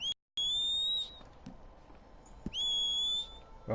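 A character whistles in the video game Red Dead Online, two clear bright whistled phrases, each a rising note held about a second, separated by a quiet gap with faint clicks.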